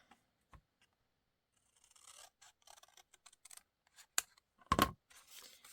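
Scissors cutting a large piece of cardboard in half, close and quiet: soft scraping and rustling strokes, then a few sharp snips near the end.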